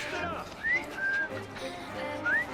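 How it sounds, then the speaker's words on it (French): A character in Assassin's Creed Syndicate whistles, a few short rising and gliding whistled notes, fairly faint, over soft ambient game sound with hints of street noise. "je viens simplement d'apprendre à siffler"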